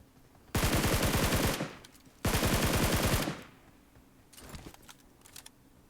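Uzi submachine gun fire in the mobile game PUBG Mobile: two long, loud sustained bursts of rapid automatic shots, followed by fainter scattered gunfire further off.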